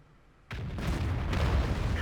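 A tank cannon fires in World of Tanks: one sudden heavy boom that rolls into a loud, sustained rumble, with no talking.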